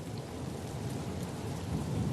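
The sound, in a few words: rain falling in the desert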